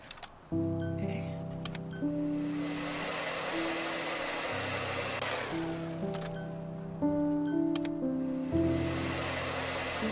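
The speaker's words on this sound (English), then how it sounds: "The air blower is really interesting because it's got this like slight lag as you're moving it around" A handheld air blower tool from the cleaning game Undusted: Letters From The Past, running as a steady, close whooshing rush of air with a few brief shifts in pitch as it is moved around, no talking.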